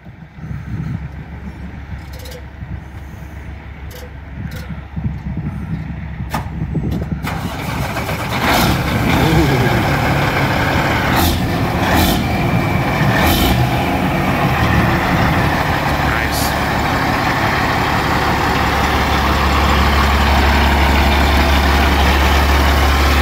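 A custom chrome heavy-transport truck with flame paint cranks and fires up, its engine catching after a few seconds and settling into a loud, steady deep idle close by.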